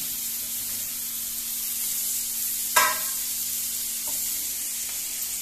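Onion and masala fry in a pan with a soft, continuous sizzle, broken by one sharp scrape of stirring and a few faint clinks, close and quiet, with no talking.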